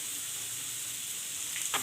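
Mini potatoes coated with gram flour sizzle steadily in a pan, a constant close frying hiss with a brief scrape of stirring near the end.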